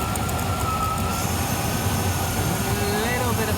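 Rover SD1 engine running after a carburettor mixture adjustment, a steady mechanical drone with a faint whine drifting in pitch, close and continuous.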